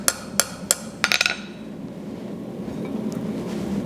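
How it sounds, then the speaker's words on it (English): A blacksmith's hammer, struck with its rounding side, rings against a cherry-red hot steel bar in a handful of sharp, bright strikes, first spaced and then a quick cluster, before fading into a low background rumble. "I'm going to use the rounding side of my hammer"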